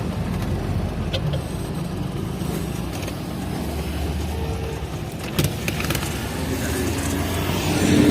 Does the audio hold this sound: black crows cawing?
no